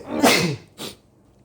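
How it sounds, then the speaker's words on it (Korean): A person sneezes during a high school earth science lecture: one loud, close sneeze followed by a shorter, softer burst, with no talking. "계속 재채기가 나오네요"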